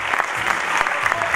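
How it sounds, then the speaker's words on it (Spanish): Crowd applauding steadily and loudly for the municipality's leader of the year, Martín Seppi Raffo, at a 2017 recognition event in San Carlos de Bariloche; dense, continuous clapping throughout with no pauses. "pide un fuerte aplauso para Martín Seppi Raffo, dirigente del año"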